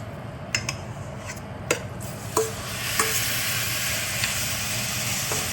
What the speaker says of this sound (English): the pan should be really hot now with the oil, so all I'm gonna do is add the marinated meat into here